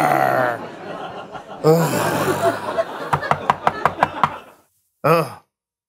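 A series of about six sharp knocks on a door, evenly spaced and close, following a stretch of sighing and groaning and ending with a short vocal exclamation.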